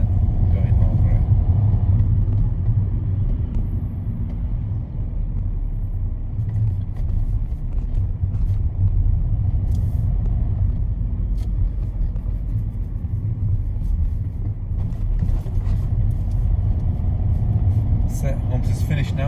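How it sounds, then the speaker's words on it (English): A car rolls slowly over a series of road speed humps after gentle braking, its steady low road rumble and engine drone continuous throughout, with a voice talking over it. "gentle brake before the humps, off the brake, then going over it."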